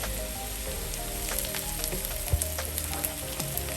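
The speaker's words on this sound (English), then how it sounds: "Let those saute with the onions" Halved mushrooms sauté with onions in a hot pan for vegan beefless tips. A continuous close sizzle is broken by scattered crackles and pops.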